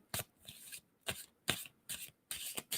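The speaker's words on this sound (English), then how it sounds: "tell me when to stop shuffling" A deck of tarot cards being shuffled by hand in quick riffling bursts, five or six rapid papery flurries separated by short pauses, close and fairly quiet with no talking.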